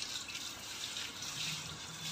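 Running water rinses flattened rice (poha) in a kitchen, a soft, steady splashing flow with light bright trickles, faint and close.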